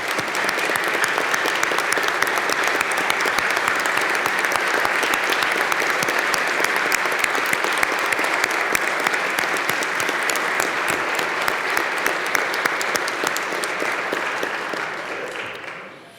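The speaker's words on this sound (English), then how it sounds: "would you please give them a round of applause and thanks for being with us" Dense, sustained applause from the members of a county legislative delegation, steady and full for around fifteen seconds before tapering off at the end, with no speech over it.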